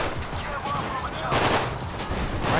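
Rapid gunfire bursts in GTA V during a gang shootout with police, dense and crackling over a couple of seconds, with a voice mixed in underneath.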